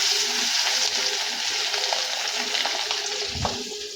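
Fish frying in hot oil in a home kitchen gives a loud, continuous sizzle with crackles and light spattering, and a brief clatter near the end.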